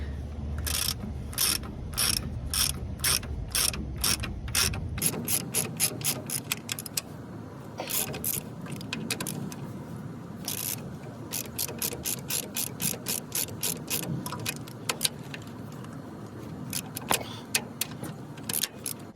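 Rapid, evenly spaced clicking of a ratchet wrench working on a Dana 60 axle in a driveway, close and crisp, running in quick bursts with brief pauses and faint metallic clanks.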